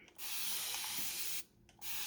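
A continuous-mist spray water bottle fires a long, even hiss of fine mist for over a second, then a short pause and a fresh burst begins, close to the ear.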